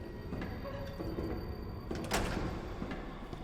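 A locked door rattling in the video game Resident Evil 2, a short clunky handle shake and thud over a low ambient hum, with one louder knock near the end.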